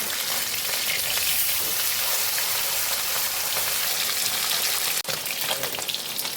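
Tangra fish crackle in hot oil in a wok as they are turned, a continuous close sizzle like heavy rain with a single soft knock partway through.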